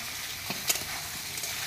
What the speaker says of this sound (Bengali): দাদি সুন্দরী মাছ ভাজা করছে